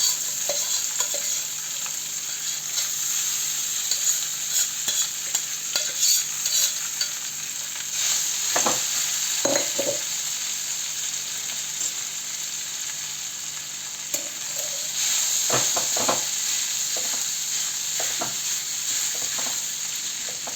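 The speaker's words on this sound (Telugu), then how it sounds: "ఇప్పుడు మనం కుక్కర్లో పెట్టిన పప్పు ఇట్లా మెత్తగా నంచుకొని వేసేస్తాం." Cooked moong dal is mashed and stirred in a hot pan for pesara pappu garjalu, giving a steady close sizzle with scattered scrapes and taps of the spoon. No one speaks.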